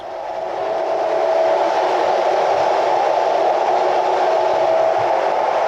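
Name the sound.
loud FlixTrain interior noise during journey, Berlin to Basel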